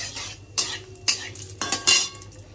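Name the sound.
tempering dried chilli and cloves in a pan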